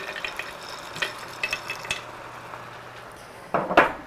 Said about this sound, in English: Give that a nice big stir around.